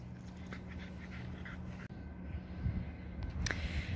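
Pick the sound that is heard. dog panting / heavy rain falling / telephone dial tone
dog panting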